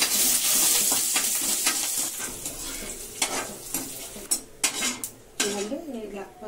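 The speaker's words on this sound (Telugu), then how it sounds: "ఉల్లిపాయలు ఇలా ఫ్రై చేసుకోవాలా." Onions frying and being stirred in a pan in a village home kitchen, with a steady sizzle under repeated scraping and clinking of a utensil against the pan, close and fairly loud throughout.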